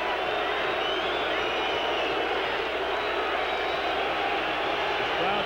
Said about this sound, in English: Crowd getting very active.